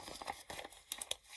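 Planner stickers for bills due crinkle and rustle as they are peeled and handled in short, soft bursts close to the microphone, with no talk.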